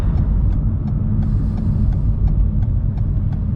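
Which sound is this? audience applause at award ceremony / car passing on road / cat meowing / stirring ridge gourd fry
car passing on road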